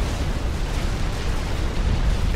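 A mega shot explosion in the video game Supreme Commander 2, a loud, dense rumbling blast filling the whole moment with heavy low-end roar.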